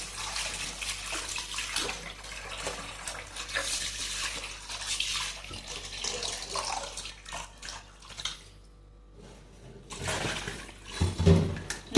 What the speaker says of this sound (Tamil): அலசிட்டு நல்லா கழுவிக்கலாம்.